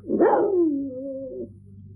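A dog's cry in a stage production of The Two Gentlemen of Verona: one loud, close, drawn-out whining howl that rises and then slowly falls over about a second and a half.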